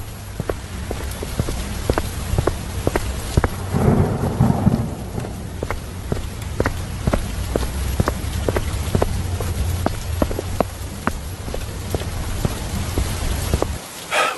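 Heavy rain pours steadily in a cartoon sound effect, with a constant hiss, scattered sharp drop taps and a low thunder rumble rolling briefly in the middle, no talk.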